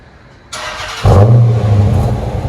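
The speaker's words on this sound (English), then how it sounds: "Show me what it's got when you leave." A 2009 Dodge Challenger R/T with a 5.7L HEMI V8 and Flowmaster Flow FX dual exhaust cranks with a brief whir, then fires up and revs into a loud, deep exhaust rumble that holds steady, close by.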